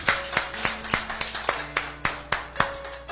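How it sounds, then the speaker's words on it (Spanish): A church congregation claps in an even, rhythmic beat, about three claps a second, close and fairly loud, over a faint steady hum. "¿Cuánto le damos las palmas a Cristo?"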